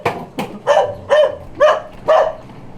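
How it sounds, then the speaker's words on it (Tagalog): A dog barks close by, five or six sharp barks in a steady rhythm with short gaps between them. "Hindi na ako takot sa aso."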